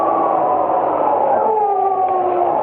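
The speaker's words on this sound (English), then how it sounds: "And then a dog began to howl somewhere far down the road." A long, wavering dog howl drifts through a steady wash of wind and noise, sounding distant, a lone drawn-out call at midnight on a road through rocky, wooded country.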